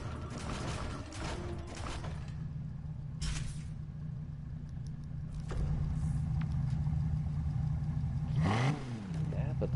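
A car engine in the racing game Need for Speed Heat holds a steady drone and then revs in a rising, falling sweep near the end, with a person talking over it.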